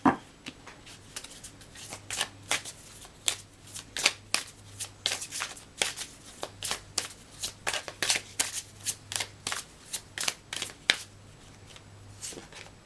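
Oracle cards being shuffled close up: a quiet series of crisp riffling bursts, repeated in a steady, uneven rhythm, with no voice over them.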